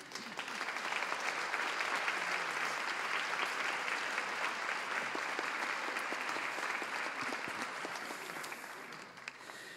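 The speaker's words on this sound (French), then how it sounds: "Substituons, si vous le voulez bien, les rameaux d'olivier par des applaudissements pour accueillir chaleureusement" A lecture audience applauds to welcome a speaker: dense, sustained clapping from a crowd that holds steady for nearly ten seconds before tapering a little, with no voices over it.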